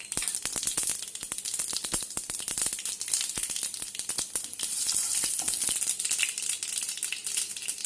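Mustard seeds and urad dal sizzling in hot oil in a pan for potato bonda, a busy crackle of sharp popping and spattering bursts over a steady hiss, close and loud, with no talk.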